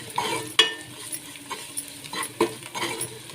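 A spoon stirs a potato mixture with turmeric powder and salt in a pan, giving a series of close scraping and clinking strokes at an irregular rhythm.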